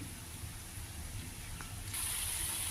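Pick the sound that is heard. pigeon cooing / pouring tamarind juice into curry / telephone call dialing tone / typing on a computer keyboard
pouring tamarind juice into curry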